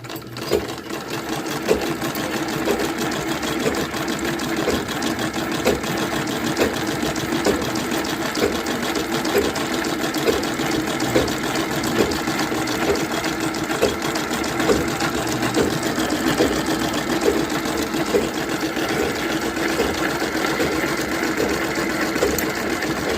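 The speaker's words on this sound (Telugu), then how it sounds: "ఈ మిషన్ లోపల నుంచి ఇలా పెట్టుకొని ఇక్కడ క్లాత్ అనేది లాక్కుంటూ కుట్టుకోవాలి" Sewing machine stitching picot edging along saree cloth with a zigzag stitch, a steady rapid mechanical whir with regular clicking pulses, close and continuous throughout.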